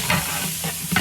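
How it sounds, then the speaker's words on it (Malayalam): Masala-coated chicken for pepper chicken fries in sunflower oil in a copper pot, making a loud close crackling sizzle with quick stirring scrapes and no voices. "മസാല തേച്ച് വെച്ചിട്ടുള്ള നമ്മുടെ ചിക്കൻ ഉണ്ടല്ലോ ഫ്രൈ ചെയ്തുകൊണ്ടിരിക്കുകയാണ്"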